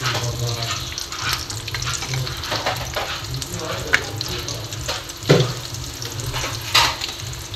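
Egg lollipops fry in oil on a slow flame, giving a continuous bubbly sizzle with occasional sharper pops and stirring clatters, close and steady with no talking.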